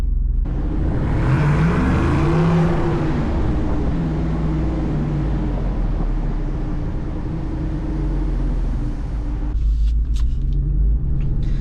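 A Jeep Wrangler Rubicon 392 HEMI rolls into a parking garage. Its deep V8 rumble is loud and steady throughout, swelling slightly near the start before easing into a constant low drone.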